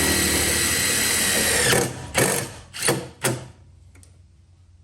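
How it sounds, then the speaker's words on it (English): A power drill drives a small screw with a washer into plastic in a Lexus camper's wheel well, a steady whir that breaks into several short bursts before stopping, close and loud. "Now all I need to do is put a little screw in there, a little washer."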